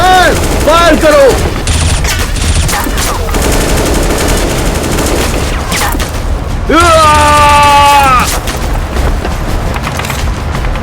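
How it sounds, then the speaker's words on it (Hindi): Heavy machine gun fire in a dubbed Hollywood action movie scene, loud sustained bursts and booms throughout, with shouted voices cutting in over the shooting. "चलो फायर करो। फायर करो।"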